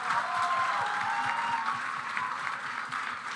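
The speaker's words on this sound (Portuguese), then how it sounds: "Palmas então para o nosso Valdinei Domingos." A studio audience claps steadily for a television programme guest, a dense, even wash of applause that holds throughout the short stretch, fairly close and without speech on top.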